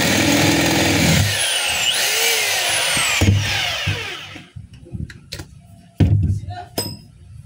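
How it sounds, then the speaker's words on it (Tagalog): A DeWalt D25032 rotary hammer drill whirs loudly in drill mode for about four seconds, then winds down and stops, followed by a few scattered clicks and handling knocks. "Ito naman yung drill."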